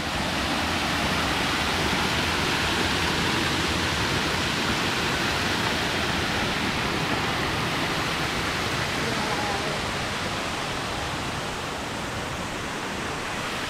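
A waterfall at Erawan National Park gives a steady, full broadband rush of falling water, loud and unbroken throughout, with a voice speaking over it.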